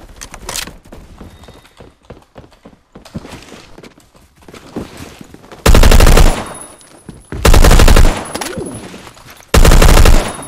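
A FAL Para 50.63 rifle in Phantom Forces fires three loud, rapid automatic bursts of about a second each, with quieter game noise and scattered shots in the gaps between them.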